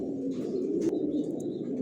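Pigeons in a loft of racer babies cooing in a steady low murmur, with a few faint chirps and a brief rustle over the continuous coo.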